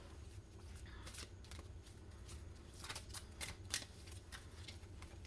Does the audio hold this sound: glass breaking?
no